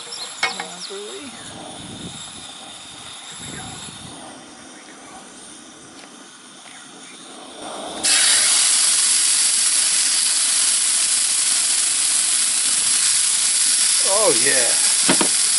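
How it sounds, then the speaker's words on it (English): A steak sizzles loudly in a hot pan, first as a quieter frying crackle under brief talk and then as a sudden, strong, steady hiss that fills the second half. "the steak has been cooked. You can hear this sizzling."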